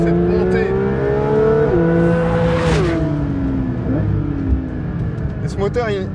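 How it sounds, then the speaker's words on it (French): Porsche 911 GT3 with a naturally aspirated flat-six engine pulls hard through its gears on a climbing road, the engine note rising and dropping at shifts, steady and loud throughout with a voice talking over it. "Et ce moteur, Flat 6 Atmo, il est tellement unique"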